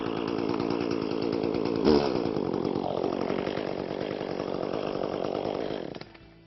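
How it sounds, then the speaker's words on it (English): Echo gas chainsaw started and left running, a loud, steady buzzing engine drone close by with a brief surge in revs, then cutting off near the end. "and you're ready to start your chainsaw."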